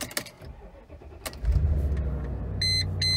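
A Mercedes G500 W463 starts after a few clicks and key sounds: the engine catches with a low rumble and settles into a steady idle, while a short electronic chime beeps twice near the end.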